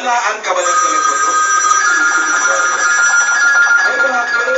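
A telephone rings steadily in the studio during a live broadcast of the Philippine TV variety show Eat Bulaga, its tone sounding nonstop under loud, overlapping talk from the hosts.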